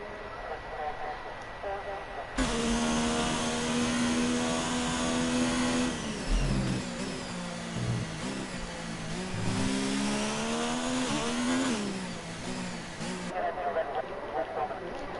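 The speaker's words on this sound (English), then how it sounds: "Lazy the Twig is the first to go out" Race car heading out on track in a racing video game at Abu Dhabi: a loud engine revs up through rising and falling pitch with gear changes, and a commentator talks over it throughout.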